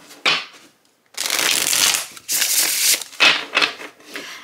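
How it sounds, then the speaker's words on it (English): Llewellyn Cirque du Tarot cards being shuffled by hand, a quick riffle, then two long sustained bursts of flapping cardstock and a few shorter bursts, fairly close and loud, with no talking. "let's give it a shuffle."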